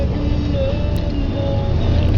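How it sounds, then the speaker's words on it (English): A cold car engine idling at a fast, steady rumble, close by and continuous, with a faint whine over the low drone. "It's just idling fast because it's cold."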